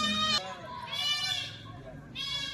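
Milking goats and their kids on a farm bleat in repeated drawn-out, wavering cries, three calls in quick succession close by, with faint background voices beneath.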